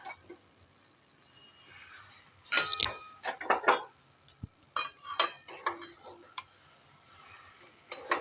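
Jackfruit chop filling mixed with garam masala and sugar in a pan or bowl: a quiet background, then bursts of close spoon scrapes and clinks against the vessel in irregular clusters.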